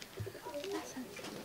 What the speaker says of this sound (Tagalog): Tong mga kalapate natin.